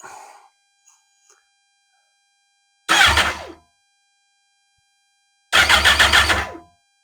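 Kawasaki GTR1400 motorcycle engine cranking over in two separate bursts, each a loud whirring starter spin of roughly one second that does not catch, with quiet gaps before and between.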